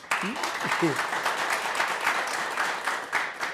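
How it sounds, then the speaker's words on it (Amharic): An audience claps in steady, continuous applause that fills the room for a few seconds, with someone speaking briefly over it at the start. "እስኪ አንድ ጊዜ አጨብጭቡልኝ"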